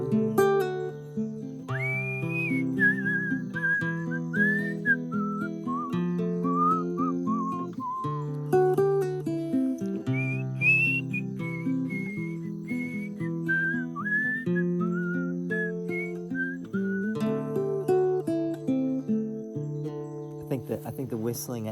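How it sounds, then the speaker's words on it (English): Melodic human whistling at the end of a song plays a wandering tune over the band's steady backing, clear and sustained throughout. "I think the whistling at the end of the song gives it away"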